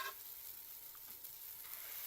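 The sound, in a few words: chocolate chip buttermilk pancakes sizzling in butter in a pan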